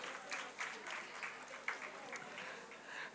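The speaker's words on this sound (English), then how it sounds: "A round of applause for yourselves, please." An audience at a talk on building a career in the AI era claps for themselves, fairly faint and scattered applause that rises and falls briefly.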